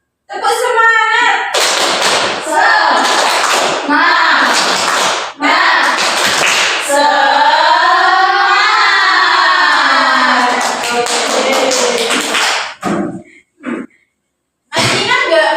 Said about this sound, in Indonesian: Oke, tepuk semangat dulu yuk. Tepuk semangat.